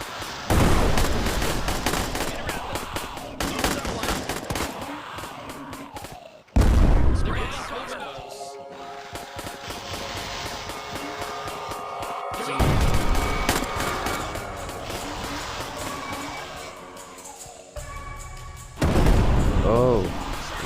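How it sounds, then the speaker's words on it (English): Booming detonations as sappers explode in the video game Plastic Battlegrounds during a Vietnam zombie attack on a fire base, with dense gunfire, loud blasts and heavy battle noise throughout. "looks like the sappers are just detonating whenever they die now"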